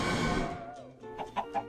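Chicken clucking in Minecraft, with a short burst of noise followed by a few quick, clear clucks close by and no talking.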